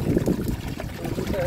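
Water is poured into a container holding about two liters and then stirred to dilute it, giving a close, uneven trickle and slosh under nearby talk.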